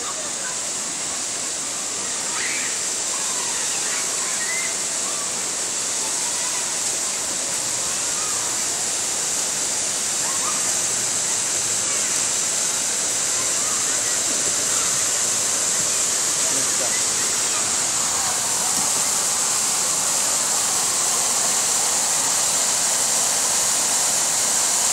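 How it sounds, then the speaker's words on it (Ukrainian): A fountain sprays and splashes in a steady, loud rushing wash that continues unbroken throughout, with faint voices underneath. "фонтан запрацював тільки ще хвилин 5, мабуть, це не більше."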